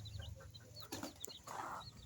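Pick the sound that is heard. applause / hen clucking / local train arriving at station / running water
hen clucking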